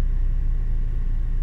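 A car engine idles steadily with the air conditioning switched on, giving a low, even rumble close by with no other sounds over it.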